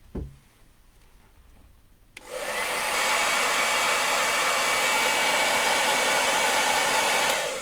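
A hair dryer drying paint on a 1/10 scale RC car body shell clicks on after a quiet moment, then blows with a loud, steady whooshing roar right up close.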